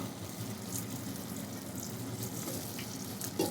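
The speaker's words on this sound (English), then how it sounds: "So I tend to fry this out first for the flavors to really develop" Chopped garlic and blue ginger sizzle steadily in a good amount of hot oil in a pan, a continuous close frying hiss with a brief clink near the end.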